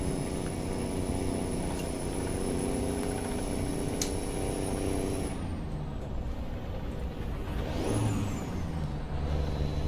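A Peterbilt 359 truck in American Truck Simulator, hauling a long trailer, runs with a steady loud engine drone and rising whine, its pitch shifting as the revs change partway through, with no talking over it.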